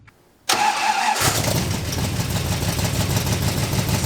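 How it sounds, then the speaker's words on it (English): A 1968 Dodge Coronet engine cranks and catches after a brief silence, then settles into a loud, rumbling, throaty idle through a glasspack exhaust. "We got us a nice little exhaust, and it sounds mean."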